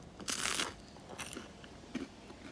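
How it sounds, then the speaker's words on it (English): Crispy Greek bread sticks with tomatoes, olives, sesame and thyme are bitten and chewed, giving a loud initial crunch followed by several softer crackling chews, close and alone. "Just listen to that crunch."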